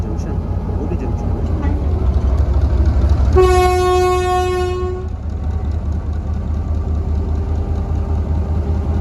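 Shuttle train rolling out from Pind Dadan Khan station with a steady low rumble throughout, and a loud sustained horn blast of a couple of seconds midway over the running noise.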